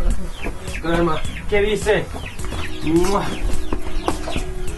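Hens clucking and squawking nearby in quick bursts, with someone speaking over them.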